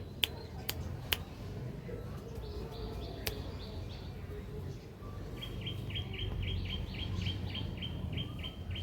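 Birds call at a pigeon loft and sale stand in Hooghly, with repeated short chirping bursts over a steady low background hum and a few sharp clicks.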